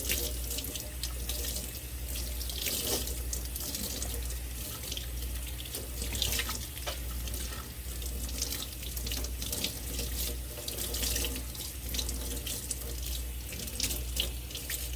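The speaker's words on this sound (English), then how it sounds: "cold water will do just fine to get all the conditioner out" Cold water runs steadily from a sink tap, splashing continuously as conditioner is rinsed out of a fashion doll's hair, close and even throughout with small shifts as the hair is moved under the stream.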